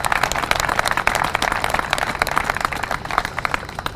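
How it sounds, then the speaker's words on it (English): An audience claps at a city news conference on new buses, dense and fairly loud applause that keeps going steadily for several seconds with no voices over it. "that's worth an applause."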